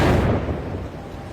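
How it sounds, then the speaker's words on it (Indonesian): An explosion from a bus engine in a film booms out as one dense, heavy rumbling blast that starts loud and slowly decays. "tiba-tiba saja terdengar suara ledakan dari mesin bus"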